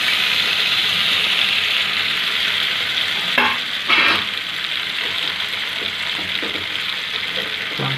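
Pasta is stirred into a spiced sauce in a hot pan, with a steady frying sizzle throughout and a couple of short utensil scrapes around the middle.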